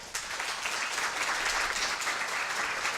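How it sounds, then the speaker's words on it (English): An audience at a poetry anthology launch claps for primary school children coming up to collect their books, a steady, full round of applause from a crowd in a hall. "Big round of applause."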